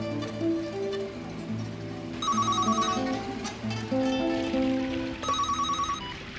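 A telephone rings in repeated electronic bursts over a soft musical background, the trills recurring at regular intervals, fairly near and clear, with no speech.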